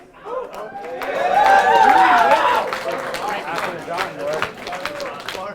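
A crowd at a rap battle cheers and claps loudly, swelling to a peak and then holding as a steady roar of applause and shouting.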